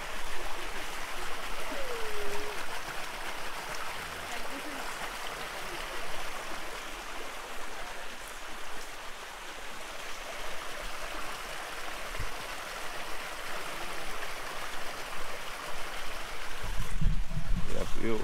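A jungle river on St. Vincent flows with a steady broadband rushing wash, constant and moderately close, with faint rustles and a brief clunk near the end.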